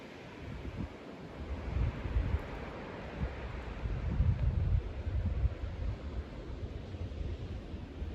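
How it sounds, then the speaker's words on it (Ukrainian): Sea surf rolling along the shore below a coastal walking path in Odesa, a steady broadband wash with low swells rising and falling, mixed with wind buffeting the microphone, no voices. "море шумить і такого гарного кольору"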